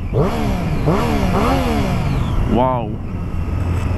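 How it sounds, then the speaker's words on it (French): A Triumph Street Triple S 660 motorcycle with stock exhaust revs loudly several times close by, the engine note rising and falling in quick blips before one last sharp rev, with a man's brief exclamation over it. "C'est vraiment le moteur que j'entends."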